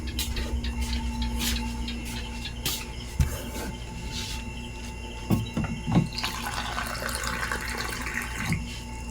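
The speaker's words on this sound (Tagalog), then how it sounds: "Inom na ako ng tubig." Drinking water runs from a tap into a disposable plastic cup at a sari-sari store in the evening. A soft, steady splash and trickle grows fuller toward the end, with a few light knocks of handling nearby.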